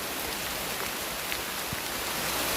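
Hard rain pours beside a river in a dense, loud, unbroken hiss of falling water, with no voices over it.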